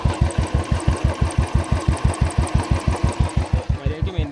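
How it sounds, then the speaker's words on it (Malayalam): A 2017 Royal Enfield Bullet Classic 350 single-cylinder engine idles nearby, a loud, even thump-thump beat of about seven pulses per second, steady throughout with nothing else over it. "ഈ അത്യാവശ്യം നല്ല കണ്ടീഷനായിട്ടുള്ള ഒരു എൻജിൻ തന്നെയാണ്"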